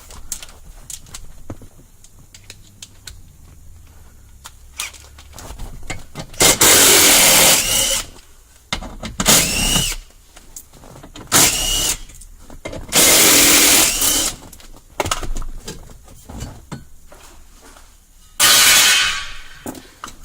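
Power drill or impact driver running in several loud bursts, backing out the 8mm and 7mm dash panel bolts inside a 2011-2014 Ford F-150 cab, with short pauses between each whirring run.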